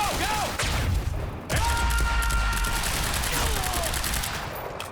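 Exploding barrels and rapid gunfire in the video game Quantum Break, a dense, loud, continuous barrage of blasts and shots with heavy low booms, under game dialogue.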